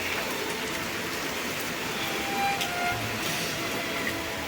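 Steady rain falls outdoors in a continuous, even hiss, moderately loud and unbroken, with no voices over it.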